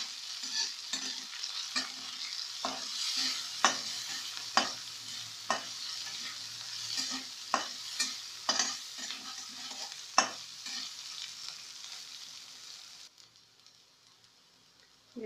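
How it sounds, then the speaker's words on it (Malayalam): Ingredients for Kerala-style rava upma being sautéed in a pan: a steady, close sizzle of frying broken by repeated sharp scraping stirs of a spoon, with no talking. The sound drops off abruptly near the end. "ഇതെല്ലാം ഒന്ന് വഴറ്റിയെടുക്കണം."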